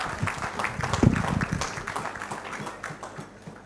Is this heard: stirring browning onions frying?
no